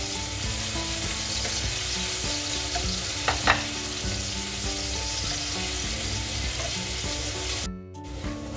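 Ginger garlic paste sizzles in a pan for a lentil curry, a steady close frying hiss with stirring scrapes and a couple of sharper clinks, and no talking.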